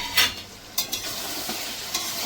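Spice masala being stir-fried for a mutton curry, a few separate scraping stirs with a light sizzle, close and fairly quiet, with no talking.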